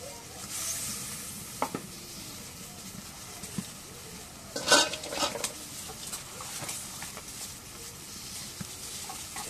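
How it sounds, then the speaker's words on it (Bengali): Dried fish fries with spices in a pan: a soft, crackling sizzle broken by scraping stirs and a sharper clatter midway, fairly close and moderately quiet. "শুটকিগুলো দিয়ে আর কষা নিবে, বড় মশলা দিয়ে কষা নিবে।"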